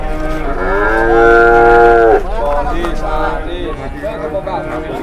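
Large cattle packed inside a jumbo livestock truck give a loud, long moo followed by shorter, fainter lowing, with a busy crowd of people talking in the background.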